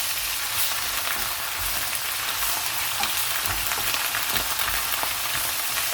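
Onions frying with garlic and ginger paste in a pot for a Kashmiri white chicken handi curry, a steady loud sizzle with soft stirring scrapes throughout.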